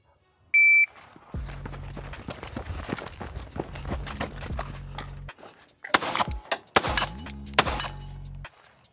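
At a shooting range, a sharp electronic timer beep is followed by fast strings of Glock 19 and Glock 19X pistol shots. The shots come as close, cracking reports in two main bursts with a brief gap between them.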